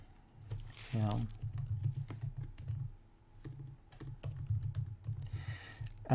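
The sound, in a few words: typing on a computer keyboard to fill out email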